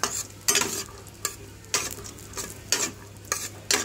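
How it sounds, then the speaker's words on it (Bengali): Lachha semai frying in a pan for Eid, with repeated scraping stirs about every half to one second over a steady low sizzle, close and moderately loud with no talking. "এটাকে আমি লাল লাল করে ভেজে নিব।"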